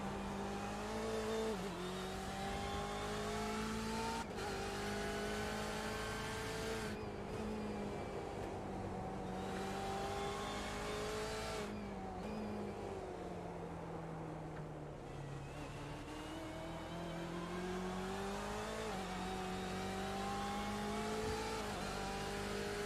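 Race car engines lapping Mid-Ohio in an iRacing BMW club esports race, heard from onboard: a constant loud engine drone that rises and falls in pitch through gear changes and corners, with no talking over it.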